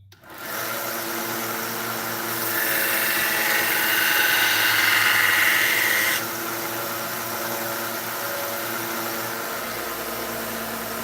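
A belt grinder with a Norton Blaze abrasive spins up and whines steadily as a knife blade is pressed in for a convex grind, a brighter grinding hiss rising midway then easing back to the motor's hum.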